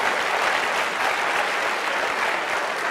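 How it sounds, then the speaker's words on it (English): A high school audience claps in a dense, steady round of applause, loud and sustained throughout with no voices standing out. "Round of applause."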